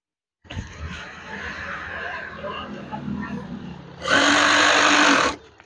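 A sewing machine stitches the top fold of a curtain, giving a loud rapid whirring run of about a second and a half near the end after quieter talk and handling.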